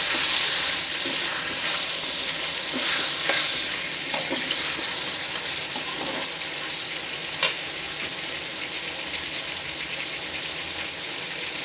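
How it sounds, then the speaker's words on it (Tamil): Tomato, capsicum and onion, all cut to the same size, fry together for chilli parotta, making a steady, moderately loud sizzle with scattered spatula taps and scrapes throughout. "தக்காளியை போடுவோம் தக்காளி குடமிளகா வெங்காயம் மூணுமே ஒரே சைஸ்லேயே வெட்டி வச்சுருக்கோம்"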